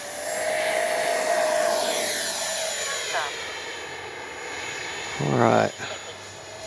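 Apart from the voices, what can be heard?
FMS Avanti S 70mm RC jet flying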